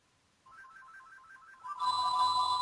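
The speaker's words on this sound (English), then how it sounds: "My phone was ringing." A mobile phone ringtone plays alone, a repeating electronic melody that starts softly, then jumps to a louder, brighter tone after a moment and keeps sounding.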